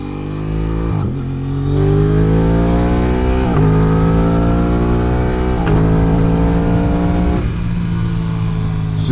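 Loud, close engine note of an Aprilia RS 660 motorcycle accelerating hard, the pitch climbing repeatedly and dropping briefly at each quickshifter gear change, with about four quick upshifts in a row.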